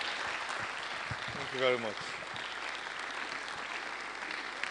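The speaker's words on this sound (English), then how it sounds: "Please keep clapping, keep clapping." A seated audience at a university pre-convocation lecture in Ede, Osun State, claps steadily through the whole stretch while someone speaks briefly over the applause.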